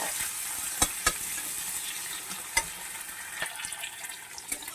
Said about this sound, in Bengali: বিনস আর পেঁয়াজ একটু ভেজে নেবো ভালো করে